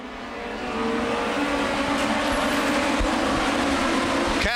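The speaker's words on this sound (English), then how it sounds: "Larson, Klauser, side by side into 3." USAC midget race cars roar around the oval at Lucas Oil Raceway in Indianapolis during a 2012 National Midget Series race, a loud sustained engine drone that swells as the pack passes.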